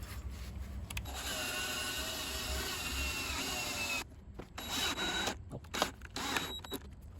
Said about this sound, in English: And now the drill.